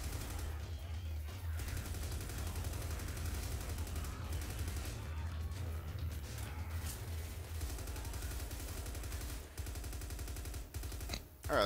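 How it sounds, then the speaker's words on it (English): Gunfire in the zombie co-op shooter Left 4 Dead 2 rattles as steady, fairly quiet bursts of automatic fire with a low rumble beneath, continuing for most of the stretch before a brief break near the end. "Don't move, I'm shooting."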